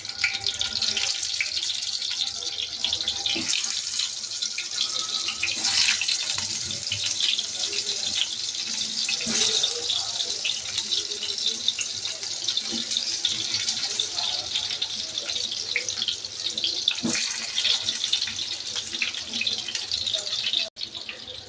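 Stuffed bitter gourds fry in hot oil with a continuous, crackling sizzle that holds steady throughout, broken by occasional clinks and pops from the pan.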